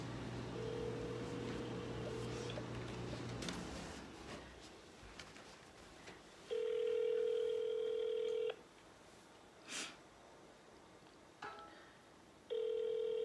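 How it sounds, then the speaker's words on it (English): Electronic phone tones repeat in long steady bursts on a prank call, a loud ringback pattern with gaps between rings after some earlier dialing tones, no talk during the rings. "Come on, Brenda. Pick up, Brenda."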